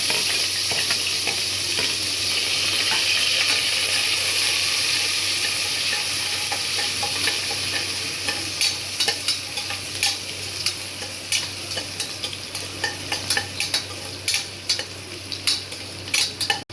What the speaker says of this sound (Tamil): இப்போ எண்ணெய் காஞ்சிடுச்சு இப்போ வந்து வெங்காயம் கறிவேப்பிலை